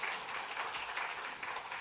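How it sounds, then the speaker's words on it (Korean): A church congregation at Sunday worship claps for a visiting missionary, a short burst of steady, moderately loud applause from many people, with no talking. "오늘 귀한 말씀으로 선교 주신 우리 김신권 선교사님께 감사의 우리 박수로 우리 인사하겠습니다"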